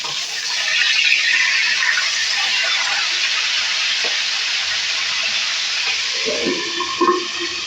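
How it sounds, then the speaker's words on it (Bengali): Fish heads frying in hot oil give a steady, close hiss of sizzling that runs unbroken throughout, with no voices. "মাথাটা আমার ভাজা হয়ে যাচ্ছে দেখুন খুব সুন্দর একটা কালারে এসছে"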